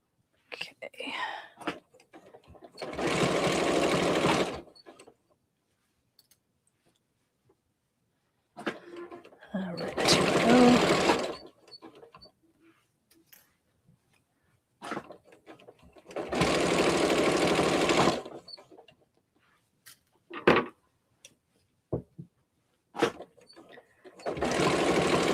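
A sewing machine stitches a cuddle fabric kit in several separate bursts of rapid mechanical whirring, each lasting a few seconds with quiet pauses between, fairly close, with faint handling noises in the gaps.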